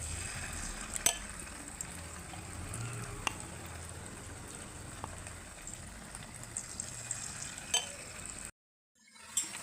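Snacks deep-frying in hot oil, a steady, fairly quiet sizzle and bubble with a few soft clicks of stirring, running continuously before cutting to near silence at the very end.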